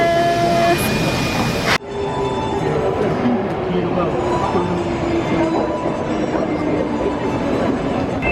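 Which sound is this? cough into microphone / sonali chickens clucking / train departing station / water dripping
train departing station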